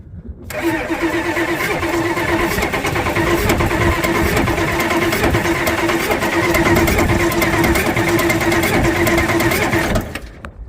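A 1991 Ford truck with a 7.3 IDI diesel engine cranks loudly and continuously for about ten seconds, the starter whirring in a steady rhythm up close without catching, then cuts off.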